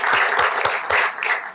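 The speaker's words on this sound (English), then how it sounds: "please go ahead and applaud for each one as they were not able to be here this evening" An audience at a school board meeting claps briefly in honour of retiring staff, a short burst of scattered, uneven claps from a modest crowd.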